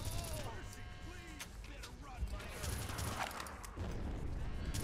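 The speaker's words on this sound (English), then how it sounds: "I just ate that rocket" A rocket explodes against the player in the Red Faction shooter, its blast arriving as a burst of noise inside a dense stretch of continuous game effects and gunfire.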